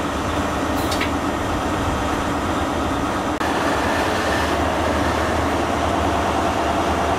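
HST 43070 pulling out of Neath Station toward Swansea, heard from aboard as a loud, continuous low rumble and rolling wheel noise, with a brief sharp high screech early on.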